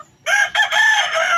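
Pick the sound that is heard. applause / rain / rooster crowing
rooster crowing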